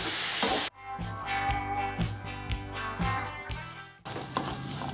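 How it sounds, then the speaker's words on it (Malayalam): Brown chickpea masala being stirred in a pan as its liquid cooks off, a spoon scraping in steady regular strokes over a soft sizzle, with louder clattering bursts at the start and end. "ഇനി നന്നായിട്ടൊന്ന് മിക്സ് ചെയ്ത് കൊടുക്കാം."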